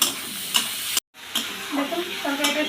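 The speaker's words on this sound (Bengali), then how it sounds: "দেখুন তরকারিটা সুন্দর ভাজা ভাজা হয়ে আসছে।" A vegetable curry with puti fish sizzles steadily in a pan, with a few sharp stirring scrapes, a sudden momentary cutout, then the frying hiss resumes close by.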